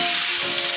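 Fish frying in a pan in a home kitchen, a steady close hiss and crackle of hot oil filling the short moment with no talk.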